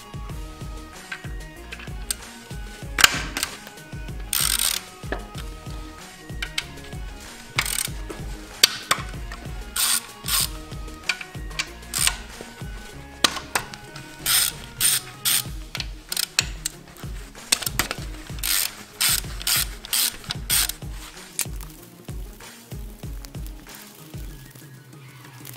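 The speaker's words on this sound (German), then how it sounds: "Dazu schraubt man die 4 Schrauben mit einer 10er Nuss raus." A ratchet with a 10 mm socket loosens bolts on a BMW M50 engine during cylinder head removal, producing repeated rapid clicking bursts in an irregular rhythm, close and clear with no talking.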